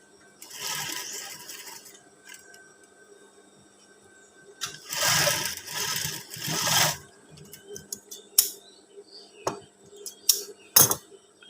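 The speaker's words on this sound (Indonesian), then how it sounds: "Lanjut menjahit pas bagian sini tadi yang kurang sedikit ya." A sewing machine stitches fabric for a teacher's uniform with a PKK-style collar, running in loud, rapid whirring bursts separated by pauses, followed by several sharp clicks and knocks.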